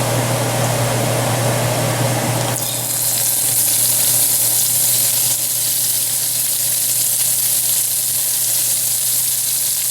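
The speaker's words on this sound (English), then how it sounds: "We're going to start browning the meat." Beef sears in hot oil inside a Dutch oven, giving a loud, steady sizzle that swells sharply after a couple of seconds and then holds strong without any talking.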